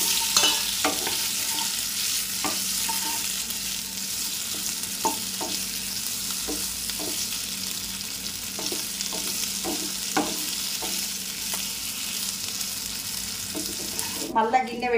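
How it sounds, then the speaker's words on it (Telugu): Paneer pieces fry in a little ghee, a loud continuous close sizzle with intermittent soft scrapes and taps of stirring throughout, and a brief clatter right at the end. "పచ్చి పచ్చిగా ఉంటుంది కాబట్టి నేను పన్నీర్ కొద్దిగా నెయ్యిలో వేయిస్తున్నా"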